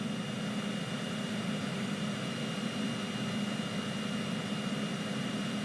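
A Cessna CJ4 jet taxis in Microsoft Flight Simulator 2020, giving a steady, even engine hum and whine throughout, with no voices.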